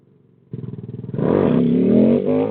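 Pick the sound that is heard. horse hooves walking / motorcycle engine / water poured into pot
motorcycle engine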